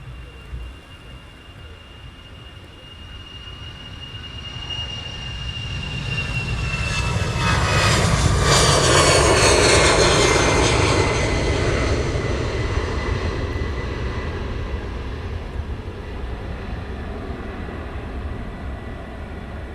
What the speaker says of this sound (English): Two Wizz Airs getting ready for departure as well.